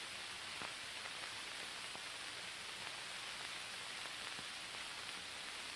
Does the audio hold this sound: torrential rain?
yes